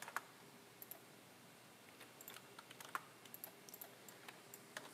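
A computer keyboard is typed on in short irregular bursts of faint clicking keystrokes, close but quiet, with no talk.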